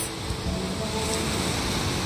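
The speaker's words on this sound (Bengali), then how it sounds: "সমুদ্রের জলের আওয়াজ, ঠান্ডা হাওয়া" Steady ocean surf and wind along a beach at Nusa Penida, Bali, lined with speedboats, a continuous broadband wash rolling on without pause, close and fairly loud with no talking.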